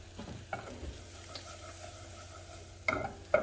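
Mushrooms cook down in a pan with a soft, steady frying sizzle, and a few quiet stirring scrapes and knocks come through, the last ones a little louder near the end.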